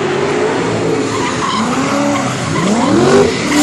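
A Falken drift team car slides at a drift show in Luxembourg, tires squealing continuously with rising and falling screeches over a loud, revving engine, close and sustained.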